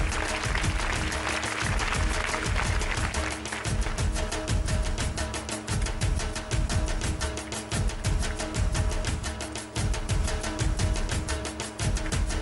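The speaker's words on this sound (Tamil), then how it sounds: "நல்ல கைத்தட்டல் இவங்களுக்கு" A studio audience on a TV game show claps in a sustained burst of applause, dense rhythmic hand claps that stay loud and steady from start to finish.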